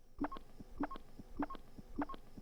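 A strange squeaky click made inside a person's mouth repeats four times at an even, unhurried pace, each a short faint squeak with a tick, otherwise quiet.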